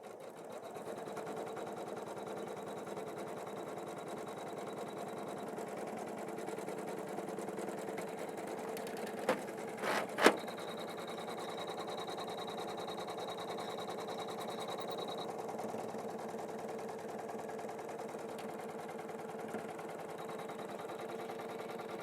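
An embroidery machine stitches a Christmas-tree design in a steady, continuous mechanical whir for the whole stretch, broken only by a couple of brief sharp clicks midway, with no talking.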